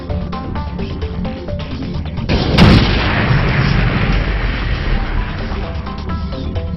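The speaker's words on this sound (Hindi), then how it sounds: "खनन क्षेत्रों में किया जाने वाला विस्फोट जंगल की शांति और सहिष्णुता को भंग करता है।" A single heavy mining blast booms out suddenly, followed by a long rumbling roll of debris, with soft tonal sounds before and after.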